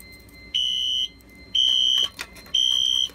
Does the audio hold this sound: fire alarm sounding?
yes